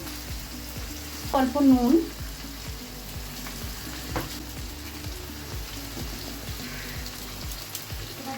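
Potatoes fry with onions in a pan, a steady close sizzle running throughout, while a voice speaks briefly near the start.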